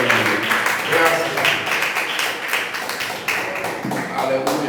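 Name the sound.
church congregation clapping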